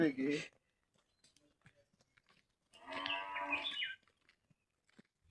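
A single low moo from a nearby bull being tied up in a rice field, followed by quiet shuffling and then a person speaking.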